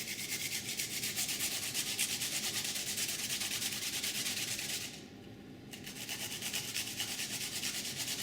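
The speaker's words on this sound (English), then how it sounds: "Got a microplane grater." Radish rubbed against a microplane grater, a steady close rasping scrape with a quick rhythmic texture, briefly pausing before resuming, no talk.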